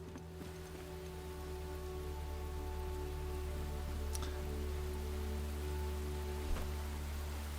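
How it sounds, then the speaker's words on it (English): Steady rain hisses throughout with a low rumble underneath, and a faint thunder-like crack near the end, from a thunderstorm in the video game Enshrouded; no voices. "you hear the thunderstorm and the rain starting?"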